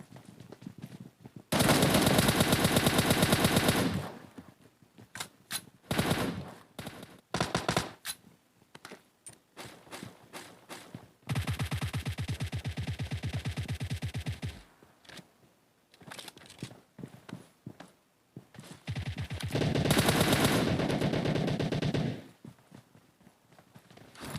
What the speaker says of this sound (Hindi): एमो होती नहीं है मेरे पास, तो मैं एक एक सिंगल शॉट पे उन्हें करूँगा फिनिश